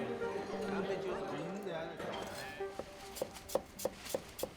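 Water chestnuts are sliced with a knife on a farm kitchen board in Guangdong. Someone speaks at first, then about six quick, crisp chopping taps follow in a steady rhythm.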